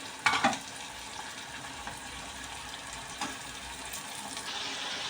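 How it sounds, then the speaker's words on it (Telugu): Vegetables for a palak mushroom curry fry gently in a pan on a low flame, a faint, steady sizzle opened by a short clatter of stirring. "ఇప్పుడు ఒక్కసారి కలిపేసి లో ఫ్లేమ్లో పెట్టుకుని అలా కాస్త ఫ్రై అవ్వనిద్దాం"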